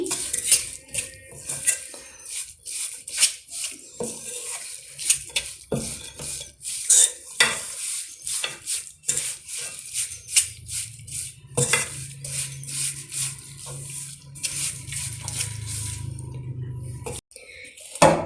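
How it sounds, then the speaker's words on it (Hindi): A spoon scrapes and clinks steadily around a kadhai as besan pattisa mixture is stirred over heat, with repeated metallic knocks over a soft sizzle. "हम तब तक इसको ऐसे ही हिलाएंगे जब तक ये कढ़ाई बिल्कुल साफ नहीं हो जाती।"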